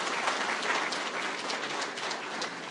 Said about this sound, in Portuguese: Os aplausos aos nossos visitantes.